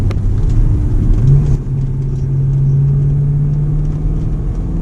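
A BMW M3 E93 convertible engine drones steadily from inside the car, rising in pitch as it accelerates, with a brief dip where a smooth gear change occurs.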